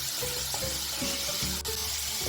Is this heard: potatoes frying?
yes